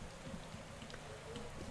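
Steady rain falls in the cycling game Pro Cycling Manager 2015, a soft continuous hiss of drops on the road with faint scattered ticks, no voices.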